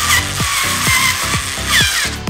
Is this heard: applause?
no